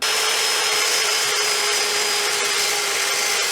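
A power saw cuts through 3/8 inch steel rebar with a continuous loud, harsh grinding whine that holds steady throughout without pause.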